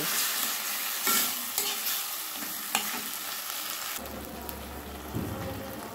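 Tomato chutney stirred in a pan over a low flame, with a continuous close sizzle broken by spoon scrapes and taps, and a low hum joining near the end.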